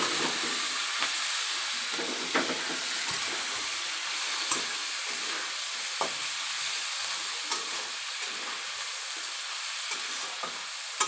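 Vegetables sizzle and fry in a pan at home, a steady close hiss with scattered crackles and pops from stirring, running continuously with no voices.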